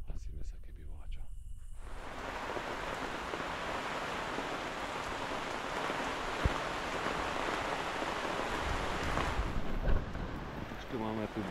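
A thunderstorm blows in during a one-night catfish fishing trip, with strong wind buffeting the microphone and steady rain hissing on surfaces nearby. The roar starts abruptly and stays dense and loud throughout, with a brief thump near the end.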